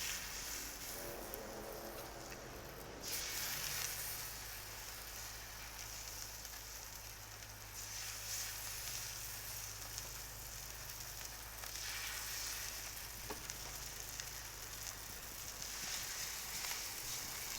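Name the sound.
salmon steaks frying in oil on a griddle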